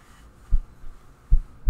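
Three soft, low heartbeat thumps from an indie video game, with one lone beat followed by a closer pair, muffled and steady over a quiet background hum, with no talking.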